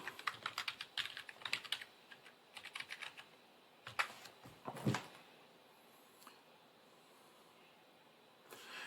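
Password keys tapped on a computer keyboard in quick clustered bursts of clicks, with short pauses between runs and a few louder isolated keystrokes near the end, close and fairly quiet.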